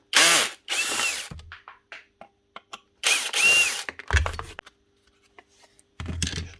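Clicks and ratcheting bursts of a power driver backing screws out of a dropped, broken Dewalt nail gun, several short whirring runs separated by small clicks and handling noises, close and moderately loud.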